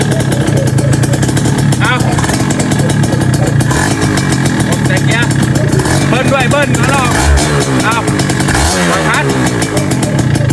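A manual car's engine revs as the driver blips the throttle during a first clutch-driving lesson, a loud, rough, continuous engine roar rising and falling, with people talking over it.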